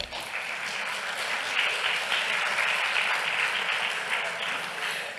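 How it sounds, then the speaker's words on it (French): Audience applause fills a conference hall, a steady dense clapping from a crowd that holds at an even level throughout with a slight swell midway. "une belle main d'applaudissements pour Olivier Boucher-Carrier."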